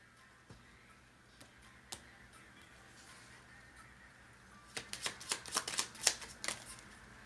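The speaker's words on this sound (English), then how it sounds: "Two cards fell out." Tarot cards being shuffled in a quiet room: a few soft isolated clicks, then a quick burst of crisp riffling snaps near the end as two cards fall out.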